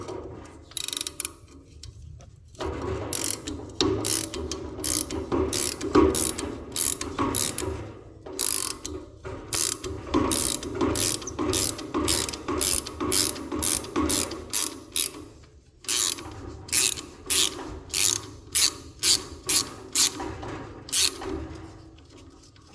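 Ratchet wrench loosening 9/16-inch-head 3/8 bolts on a Troy-Bilt Horse tiller, rapid close clicking strokes in bursts with brief pauses, alone without talk.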